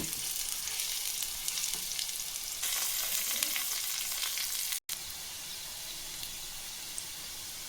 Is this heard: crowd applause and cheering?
no